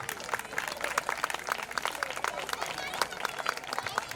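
An audience at a nursery and primary school annual day claps steadily for several seconds, a dense patter of many hands with some sharper individual claps, and voices are heard through it.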